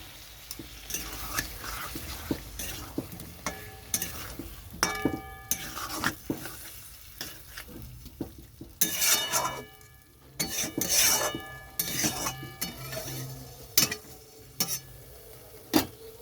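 A spoon scrapes and stirs spice paste with potatoes in a pot for shankar fish curry, with repeated metallic clinks and knocks over a low sizzle of frying.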